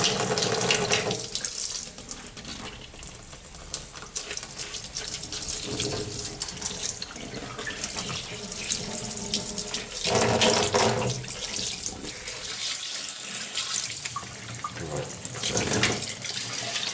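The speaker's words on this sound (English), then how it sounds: "Right, need a bit of rinse first." Tap water runs steadily into a sink while a fresh whole cuttlefish is rinsed under it, the flow loud and continuous with shifting splashes as hands move the fish, and someone speaks briefly over it.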